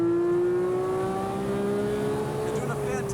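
A Porsche 911 991.2 GT3 with PDK gearbox runs on a track, its engine a loud steady drone close to the microphone with a slight pitch drop toward the end; a voice talks over it.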